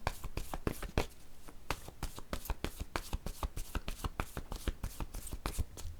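Tarot cards being shuffled and drawn by hand, a dense run of crisp riffling flicks and slaps that carries steadily and close throughout, with no talking over it.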